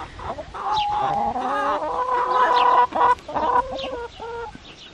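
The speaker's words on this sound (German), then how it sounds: "Wir haben ja Bielefelder Kennhühner." Bielefelder Kennhuhn chickens clucking nearby, a steady run of overlapping clucks and calls with a few short pauses.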